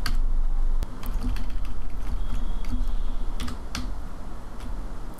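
Rapid, steady keystrokes on a computer keyboard as a file name is typed in Android Studio, close and continuous over a low background hum.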